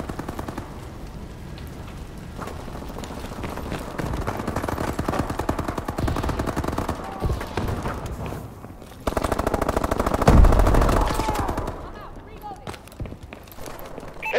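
Rapid machine gun fire crackles through a Call of Duty domination match, dense continuous bursts with brief pauses and one louder flurry, while voices call out over the shooting.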